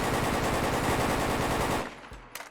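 Stechkin APS automatic pistol in Fallout 4 firing one fast, continuous burst of rapid rhythmic shots, loud and close, about two seconds long. A few scattered clicks and tails follow as the burst stops.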